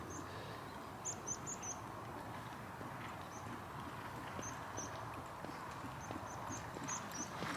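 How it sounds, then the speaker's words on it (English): A racehorse walks across a racing yard, its hooves clopping in an unhurried, even rhythm at moderate distance, with birds chirping faintly in the background. "This is a horse called Weldick."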